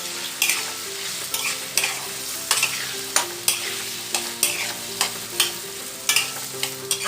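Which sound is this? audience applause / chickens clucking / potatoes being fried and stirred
potatoes being fried and stirred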